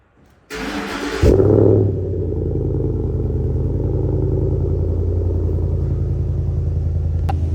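A 6.2-litre V8 in an SVT Ford Raptor fires up with a sharp burst, flares briefly, then settles into a deep, loud, steady rumbling idle that continues close and unbroken to the end.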